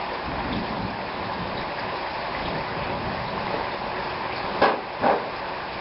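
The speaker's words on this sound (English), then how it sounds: "The rain is starting to come down at least." Summer thunderstorm rain falls steadily outdoors as a dense, constant hiss, with a couple of brief louder gusts or thumps near the end.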